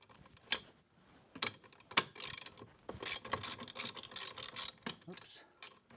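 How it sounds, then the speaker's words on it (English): A 10 mm wrench works on a jet ski's steering linkage, giving quiet irregular metallic clicks and ratcheting ticks, some in quick bursts, over about six seconds. "I'm going to go ahead and loosen up my steering linkage, which is right here, and this is just a 10 millimeter"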